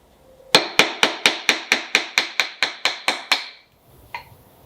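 A wood chisel cuts into hard wood with about a dozen evenly spaced, sharp knocks in quick succession, loud and close, followed by a pause and one fainter tap.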